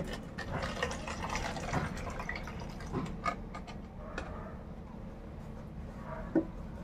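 Neem water solution for garden pest control is poured into a measure, giving a soft, continuous trickle with a few faint drips and clinks, close and quiet.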